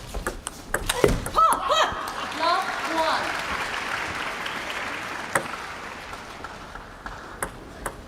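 Japanese fans at a table tennis match between Mima Ito and Wang Manyu applaud after Ito wins game 1, 11-7. Clapping swells and fades under a commentator's voice, punctuated by sharp ball pings.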